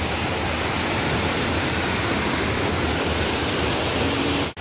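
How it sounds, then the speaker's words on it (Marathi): Rushing water roars loud and steady at close range, a dense continuous flow with no voices, cutting out abruptly at the very end. "पाणी बघा, बदा बदा बदा बदा आवाज कसला भारी येते बरं का ह्याचा आवाज"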